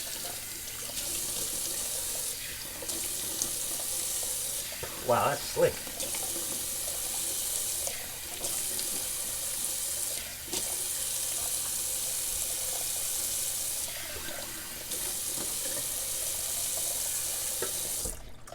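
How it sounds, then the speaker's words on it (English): Cold tap water runs steadily into a sink to rinse a Simpsons Chubby 2 best badger shaving brush, a close continuous hiss with brief splashing breaks and someone speaking briefly over it. "cold water rinse it."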